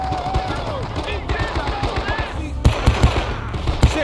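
Rapid gunfire crackles in the Vietnam-era shooter Men of Valor, steady bursts of automatic rifle shots with heavier, louder reports punching through in the second half, mixed with distant battle noise and shouted voices.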